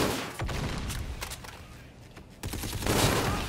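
Bursts of gunfire from snipers in a Call of Duty: Infinite Warfare Domination match, with sharp irregular shots and rattling volleys over a busy battle backdrop, loud and close at times.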